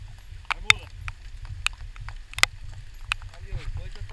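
A mule's hooves clip-clop irregularly as it pulls a cart through the town of Mandaguari, Paraná. The hoofbeats are scattered and moderately close, over a low rumbling background, and people talk nearby.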